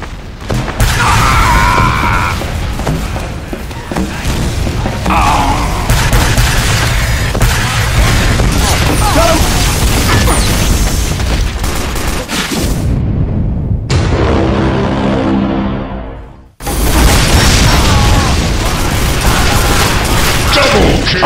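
Rocket blasts pile up in a chaotic Team Fortress 2 match, booming loudly and near amid constant gunfire and game noise, with a brief drop near the end before the racket resumes.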